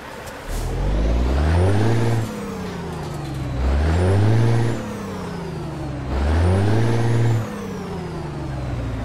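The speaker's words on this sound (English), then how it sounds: "but let's get this truck started up." A 1997 International 9800i truck with a 500 horsepower Cat engine in American Truck Simulator revs up three times in a row, each a loud rising and falling engine surge with a short settle back to idle between.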